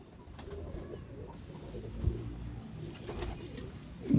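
Soft, low cooing from a breeder or high-flyer pigeon, faint and close, murmuring on and off through the quiet with no talking.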